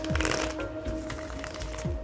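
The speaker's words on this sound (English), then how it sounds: "let me go ahead and shuffle the cards for you" Gilded Tarot cards are shuffled by hand, close and fairly loud, with a few riffling bursts and soft slaps of the deck over a low steady background hum.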